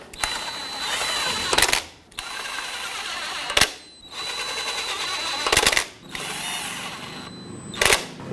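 Ratchet with a 10 mm socket tightens valve cover bolts on a 1997-2006 Jeep Wrangler 2.4L engine, giving several long runs of close, rapid clicking, each ending in a sharp stop, with brief pauses between bolts.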